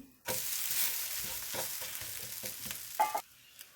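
A savoury batter pancake sizzles steadily in a hot pan after being flipped, a continuous close frying hiss with a few soft scraping taps near the end and no talk.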